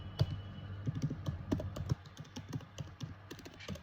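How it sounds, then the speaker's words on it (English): Keys clatter in quick close bursts as a search query is typed on a computer keyboard, with brief pauses between words. "So suppose if I type ACL, okay, reconstruction"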